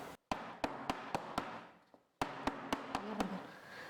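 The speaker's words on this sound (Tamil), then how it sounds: "இப்போ இந்த கேக் ட்ரேவை சும்மா இப்படி லைட்டாக தட்டிக்கலாம்." A cake tray filled with batter is tapped lightly against a surface: two groups of sharp, evenly spaced knocks, about five and then six, faint and close in an otherwise quiet kitchen.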